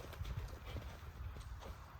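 Horse hooves clip-clop at a walk during groundwork training, a steady uneven patter of muffled steps fairly close against a noisy outdoor background.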